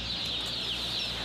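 Young breeding cockerels clucking in a steady close-up flock chatter, continuous and moderately loud with a broad bright hiss over it, no talk.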